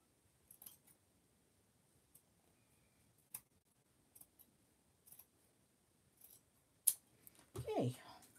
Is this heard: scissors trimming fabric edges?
yes